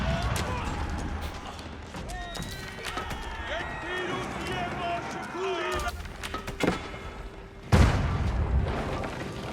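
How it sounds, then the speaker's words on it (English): Booming cannon fire from an Age of Empires 4 battle, with cannons pounding a burning keep amid siege weapons. The blasts sit under continuous commentary, with one sharp, loud impact near the end. "Cannons engaging this keep has set a blaze."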